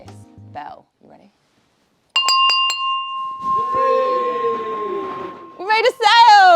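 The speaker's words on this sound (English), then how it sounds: "whenever we make a sale on the Electroheads store, we ring this bell" A small office bell rung by hand to celebrate a sale makes several quick bright strikes with a sustained ringing tone, close and loud, followed by people cheering and talking.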